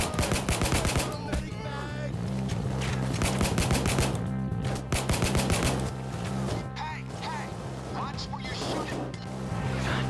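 Gunfire in the heist video game Payday 2, dense bursts of automatic shots and impacts over a steady game soundtrack, loud and continuous, with a player's voice talking at times.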